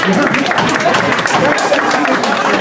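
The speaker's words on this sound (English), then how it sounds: "No applause, please." An audience at a public meeting about a proposed Starbucks development applauds loudly, with a dense, continuous patter of many hands clapping.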